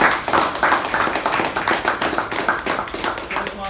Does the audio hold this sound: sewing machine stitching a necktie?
no